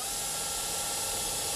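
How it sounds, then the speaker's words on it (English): A power drill bores into the metal wall posts of a Sunglo Model 1000C greenhouse, a loud continuous high whine held close for the whole stretch. "it's time to drill into the wall posts"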